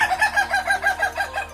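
Ayam Ketawa laughing chicken clucking in a rapid, steady run of about a dozen close, rhythmic calls, loud and alone with no talk.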